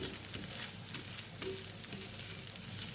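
A moringa leaf dosa roasts in oil on a hot pan, giving a close, continuous sizzle and crackle with faint scraping, steady throughout and without any talk.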